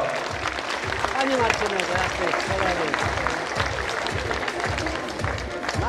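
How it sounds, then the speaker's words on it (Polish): Dense, sustained crowd applause at a sports gala in Lubawa, 2014, carries on evenly throughout, with a voice speaking over the clapping and a low rhythmic musical beat underneath. "Gratulujemy serdecznie, proszę Państwa, wielkie brawa."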